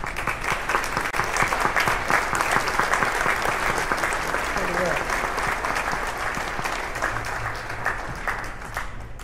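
Sustained audience applause at an Inuit Circumpolar Council (ICC) assembly in Barrow, a dense steady patter of many hands clapping throughout, fairly close and even in loudness.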